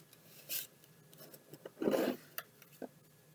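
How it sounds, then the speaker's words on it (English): Playing cards are shuffled for blackjack dealing, giving soft riffling rasps and quick flicks in short bursts, fairly close and quiet, with no voices. "I have to shuffle the way they need me to so I don't bend the cards"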